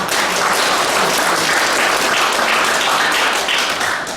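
A seated audience gives a priest warm applause at an Advent special lecture: dense, steady clapping from many hands that fills the space evenly and continues without a break, with no voices heard above it.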